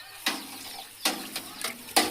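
Curd is stirred into a large batch of buttermilk meant for about a hundred people, heard as four or five quick, sloshing strokes with short pauses between them and no voices.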